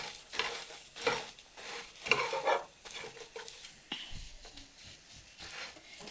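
Mushroom masala with palav leaves stir-fried in a pan, with uneven scraping and stirring strokes over a low sizzle and occasional clinks of utensil on metal, close and moderately loud.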